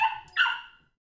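A dog gives two short barks close by, the second sharper, then quiet.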